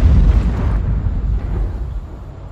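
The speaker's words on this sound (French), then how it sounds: "En cas d'explosion nucléaire au Bugey." A nuclear explosion sound effect: a loud, deep rumbling blast that starts at full force and slowly decays into a low roar over a couple of seconds, with no speech.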